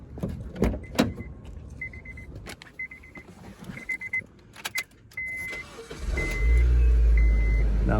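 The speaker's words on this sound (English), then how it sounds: "we're gonna go ahead and crank up the car" A Honda Civic's engine cranks and catches after several seconds of quiet interior sounds, soft dashboard chimes and key rattles, then runs loudly and steadily at idle close by, with no talking.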